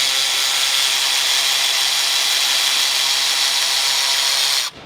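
A power tool loosens the intercooler pipe clamp on a 2019-2024 Dodge Ram Cummins, a loud, continuous close-up whir that runs steadily for several seconds before stopping abruptly.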